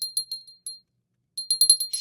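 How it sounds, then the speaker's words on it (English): A small Avon Cape Cod collectible bell rings in two bursts of quick, bright chimes, several light strikes, then a pause, then a denser run of tinkling rings, all close and clear with no talk. "I finally found the bell."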